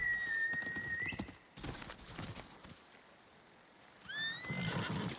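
A horse in the Ghost of Yotei video game neighs twice, high whinnies at the start and near the end, with hooves clip-clopping close by in between.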